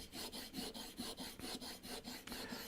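A #5 bench plane blade rubbed back and forth on a sharpening stone, a steady rhythmic rasping scrape repeating about three times a second, close and even.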